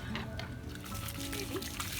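Water from a garden hose splashes and trickles steadily onto a straw bale garden area covered with cardboard, close and continuous for a couple of seconds.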